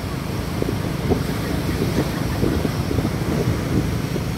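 Strong wind roars steadily across the microphone at Bariwon Beach, with a broad rumbling rush and the wash of big waves underneath, loud and continuous throughout.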